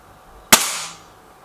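One air rifle shot in a BSA Lightning SE versus Gamo Whisper X target comparison: a single sharp, close crack that fades over about half a second, alone in a quiet setting.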